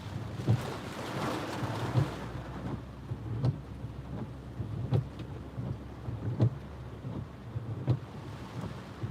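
Wind gusting during Tropical Storm Isaias making landfall at Myrtle Beach, South Carolina: a roaring, buffeting rush mixed with rain, plus regular low thumps about every one and a half seconds.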